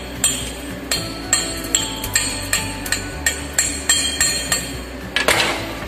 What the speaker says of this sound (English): Now again chipping hammer use.